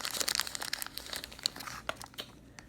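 Scissors cut open the crinkly plastic packaging of collectible pins, giving a close run of sharp crackling snips and rustles that fade toward the end.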